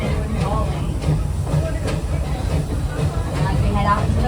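Busch Gardens Tampa Bay Serengeti safari train rolling along its track, a steady low rumble with faint rhythmic clicks under a loud announcer's voice over the PA.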